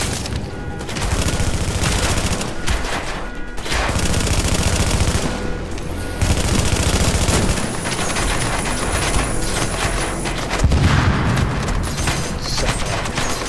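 Rapid automatic gunfire in a first-person shooter game, dense and loud bursts rattling almost continuously with brief gaps, no talking over it.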